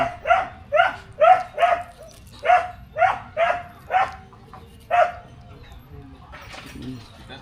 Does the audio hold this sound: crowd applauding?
no